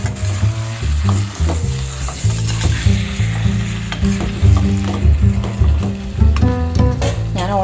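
Liver frying in a pan and being stirred, with a steady sizzle, repeated scraping and clinking strokes, and no talk over it.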